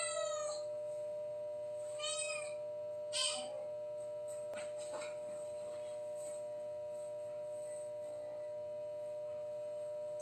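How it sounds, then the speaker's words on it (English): A cat named Diablo meows indoors, a few short moderately close cries in the first few seconds, then quieter scattered sounds over a steady background hum. "Please stop meowing, Diablo."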